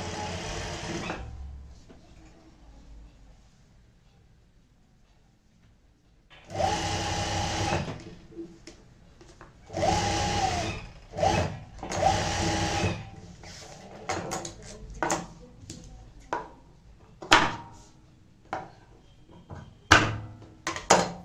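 A sewing machine stitches across the top of a folded fabric pencil pouch in short separate bursts of whirring, with pauses and some handling knocks between runs and a near-silent stretch at the start.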